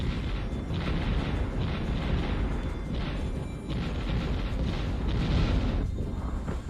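Dense, continuous rumble of naval artillery fire and explosions from the Ghost Fleet Admiral video game, a sustained barrage of overlapping booms with no pauses.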